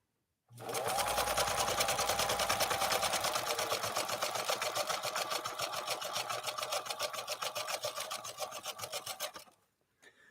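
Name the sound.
1957 Phoenix 283F sewing machine stitching pattern 2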